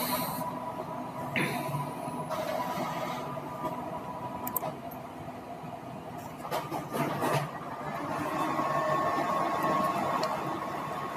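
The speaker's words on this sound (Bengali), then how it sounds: "প্রিন্ট হচ্ছে" An office printer in a computer class runs through a landscape-format print job, a steady mechanical whir with rising and falling motor passes and a few brief clicks, heard alone at moderate volume.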